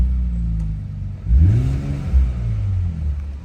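Catback exhaust on a car revving from inside the cabin: a steady low drone with two short throttle blips that swell and fall back, muffled and fairly close.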